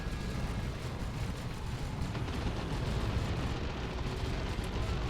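A grenade blast in the strategy game Dawn of War 2 sits inside a dense, rumbling wash of battle noise. Low booms and crackling bursts blend into a constant roar, with no single sharp detonation standing out.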